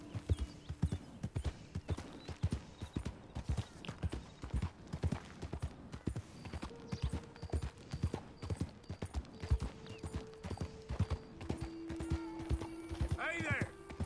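Horse hooves clip-clop steadily and close in Red Dead Redemption, a regular walking rhythm under brief character dialogue, with a horse whinny near the end.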